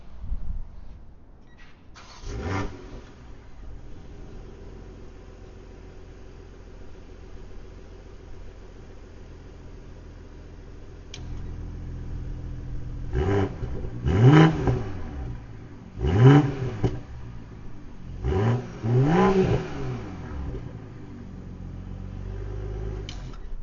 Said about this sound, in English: I'm actually going to start this car up so you can hear how it sounds